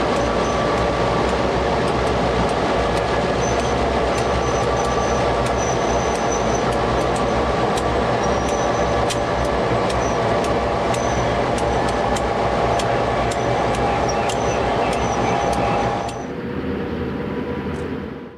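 Five Southern Pacific SD9 diesel locomotives cross the Santa Fe diamond at Stockton, a loud, close, steady engine rumble with rhythmic wheel clicks over the crossing and a brief whistle-like squeal, then suddenly cut off near the end.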